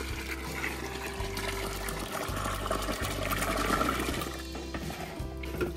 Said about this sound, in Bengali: এখন আমরা এই জুসটাকে ড্রামে ঢেলে দিব।